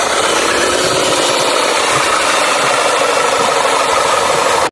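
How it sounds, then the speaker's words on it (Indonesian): A toy rock breaker excavator runs with a constant buzzing motor whir and a faint rattle, close and steady, cutting off abruptly at the very end. "Wow, eskavator pemecah batu sudah beraksi."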